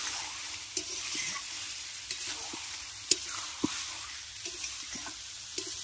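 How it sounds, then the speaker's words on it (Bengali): Large potato chunks stir-fried in a pan, a continuous close sizzle punctuated by sharp spatula knocks and scrapes at irregular intervals, with no one talking. "এবার আলুটা দিয়ে ভালো করে কষাবো"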